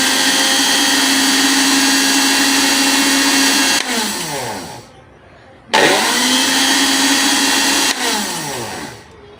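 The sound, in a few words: juicer blender grinding watermelon juice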